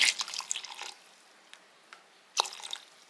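Water goes into ground masala in a mixer jar while cooking a hotel-style kurma, heard as a brief splashy trickle followed by a few soft drips and a second short splash, close and quiet, with no voices.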